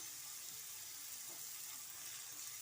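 A soft, steady sizzle of radish frying in a pan, quiet and continuous with no voices.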